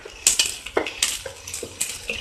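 Chopped capsicum goes into a pan of sautéed onions and garlic for paneer capsicum gravy, bringing a quick run of close metallic clinks and scrapes of a spoon against the pan, steady and rhythmic, with no talking.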